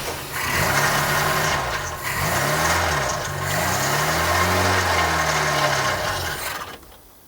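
An old classic Ford hot hatch engine, left to rot in a garden for 25 years, struggles to idle, its revs rising and sagging unevenly in a wavering, uneven drone before dying away.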